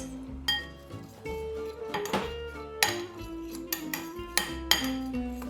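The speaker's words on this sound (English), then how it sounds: "I'm gonna grab a little spoon and give that a mixy mix." A small spoon clinking and scraping against a bowl while mixing dry seasoning with onion granules for Cajun chicken pasta: repeated close, bright metallic taps and rattles coming in quick irregular bursts.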